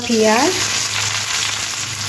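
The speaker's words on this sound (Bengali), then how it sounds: "পেঁয়াজটা একটু হালকা লাল করে ভেজে নেব।" Onions frying in a pan for a potol (pointed gourd) masala curry, a loud, continuous sizzle and crackle close by, with a brief voice at the start.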